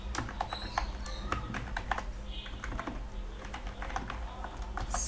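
Quick keystrokes on a computer keyboard while CSS code is being typed, a steady patter of light clicks with a faint background hum.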